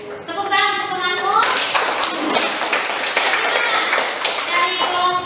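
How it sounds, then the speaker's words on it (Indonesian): Classroom applause for a student who has just finished presenting, dense clapping from many hands that starts after a brief stretch of a voice and carries on steadily to the end. "tepuk tangan untuk temanmu"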